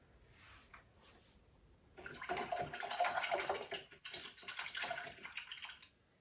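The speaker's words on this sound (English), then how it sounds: "Rinsing my brush out." A paintbrush being swished and rinsed in a water container, a run of close splashing and sloshing after a quiet start, alone with no speech.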